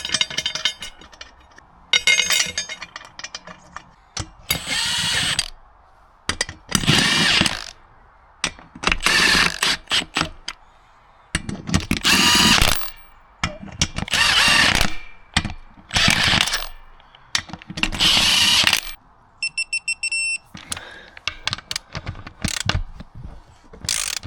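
A power tool driving bolts to mount a spare tire carrier for a 37-inch spare on an FZJ80 Land Cruiser: about a dozen loud, rattling bursts, each lasting a second or so, separated by short pauses.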